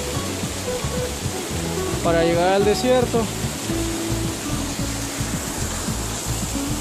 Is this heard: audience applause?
no